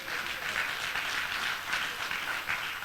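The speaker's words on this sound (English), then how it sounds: "A round of applause." Steady applause from a graduation ceremony audience, moderately loud and continuous with no break across the short stretch.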